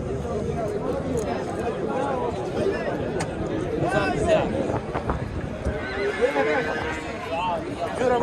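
Horses at a livestock market neigh and whinny amid hoof clops, with a crowd chattering and people talking throughout.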